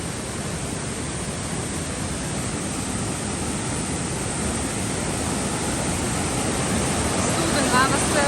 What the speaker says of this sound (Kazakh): Судың ағысы өте қатты.